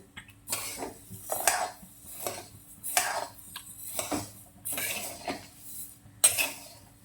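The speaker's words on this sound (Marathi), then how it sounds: "सगळ्यात पहिले ना मी धनं भाजून घेते अर्धा किलो धनं" Half a kilo of coriander seeds dry roasting in a pan for homemade black masala and red chilli powder, giving bursts of rattling, scraping stirs against metal in a steady rhythm, fairly close, with no talking.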